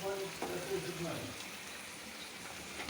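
Vegetables frying gently in a pan over a very low flame, a soft steady hiss that stays faint throughout.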